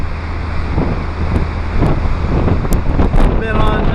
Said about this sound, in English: So we're on the ferry between Whittier and Valdez.